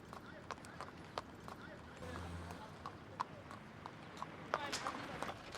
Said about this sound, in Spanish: Viajó con un carro tirado por un caballo